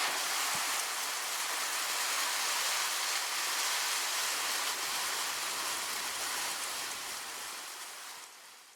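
Steady rain falls outside as a dense, even hiss that stays constant for several seconds before easing slightly in volume toward the end, with no voices.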